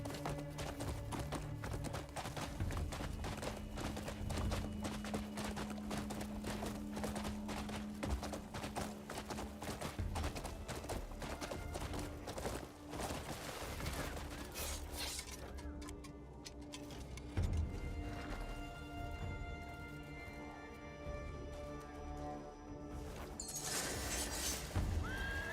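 Horse hooves clip-clop and a horse whinnies in a video game, fairly faint and steady beneath game music and sound effects.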